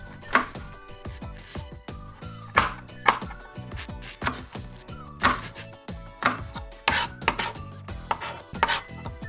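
Knife chopping ingredients for Mersin tantuni on a cutting board, a steady run of sharp close thunks in irregular rhythm, with occasional metallic clinks and no voices.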